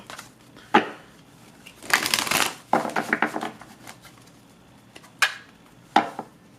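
A deck of tarot cards is shuffled by hand close up, with short riffling rustles and snaps in irregular bursts, including a longer rustling stretch in the middle.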